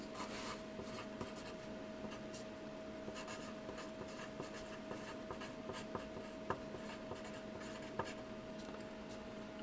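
Pen or pencil writing words on paper, faint continuous scratching with small taps, close but quiet over a steady electrical hum, no talk.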